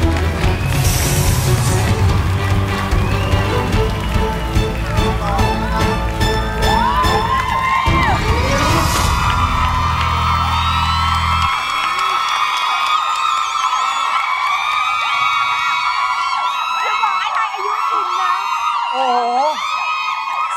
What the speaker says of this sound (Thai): เสียงกรี๊ดต้อนรับปัสนีหมายเลข3